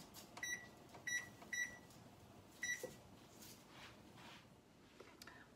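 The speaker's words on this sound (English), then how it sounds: "And then set our timer for 10 minutes." A few short, high electronic beeps sound in quick succession, then one more after a pause, fairly quiet over a soft background hum.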